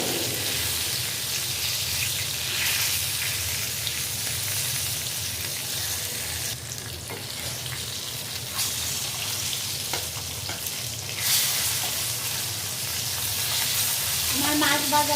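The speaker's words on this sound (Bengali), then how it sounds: "আমার মাছ ভাজাটা হয়ে গেছে বন্ধুরা" Jatka hilsa fish from the Meghna river fries in a pan with a loud, dense, unbroken sizzle and crackle that holds steady throughout, with occasional sharper bursts of spitting oil, and no voices.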